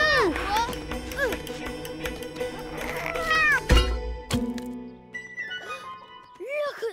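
A cartoon cat meows repeatedly in short rising-falling cries among busy animated action sounds and voices.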